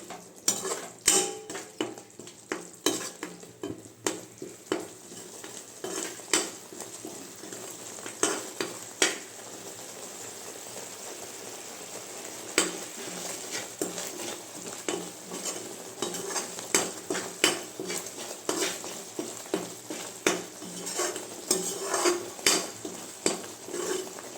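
Ground flattened rice (aval) being stirred into a thickening mixture in a cooking pan for laddu, with frequent sharp scrapes and clinks of a metal spoon against the pan over a soft sizzle, close and fairly loud.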